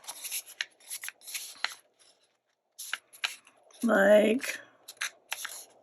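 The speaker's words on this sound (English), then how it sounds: "take the first book page and we're going to just fold it up like that and then fold it in half" A book page for a junk journal being folded and creased, giving short papery rustles and crinkles that come in bursts between bits of speech, with one louder crisp rub near the end.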